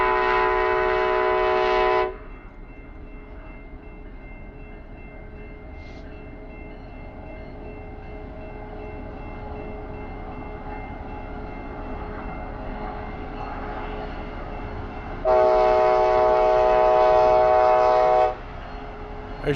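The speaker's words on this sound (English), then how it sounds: "There's your train for today." A train horn blares in long harmonic blasts at the start and again near the end, with steady rumble of a passing train in between.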